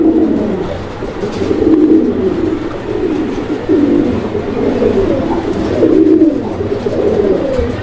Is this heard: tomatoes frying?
no